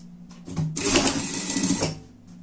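A sewing machine stitches the lining of a pet cover in one steady run of a little over a second, close and fairly loud, with a short lighter whir just before it.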